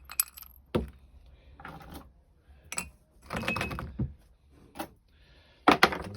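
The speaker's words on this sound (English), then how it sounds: "just broken up some bits of old crock, a little bit in the bottom of each pot just to cover up the drainage holes" Broken pieces of old clay crock dropped into plant pots over the drainage holes while repotting cacti and succulents, a series of sharp, close ceramic clinks and knocks in separate bursts with quiet gaps between.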